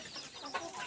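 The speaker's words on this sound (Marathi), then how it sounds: "हा कोंबडा बेरडचा असला आहे" A Berad breed rooster kept free-range on a farm gives soft, short clucks, faint and close, amid quiet background noise with no talking.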